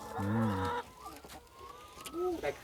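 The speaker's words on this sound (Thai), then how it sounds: "ไก่ครับ" Hens on a small home egg farm cluck and call loudly nearby, several drawn-out bird calls rising and falling over a low background.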